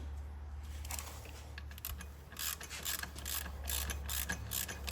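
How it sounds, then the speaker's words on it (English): A ratchet wrench clicks in quick bursts of ratcheting strokes while working on a Porsche 911 Carrera 4S, close but quiet, over a low steady hum with no talking. "Back with the ratchets."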